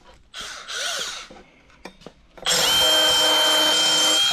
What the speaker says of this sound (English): So I was just gonna hit that with a little belt sander.